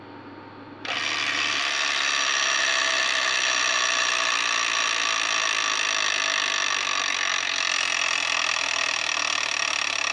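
A spinning wheel on a Wheel of Fortune Deluxe electronic tabletop game rattles continuously, a dense ticking clatter that starts suddenly and runs steady and fairly loud for about nine seconds, with no voices.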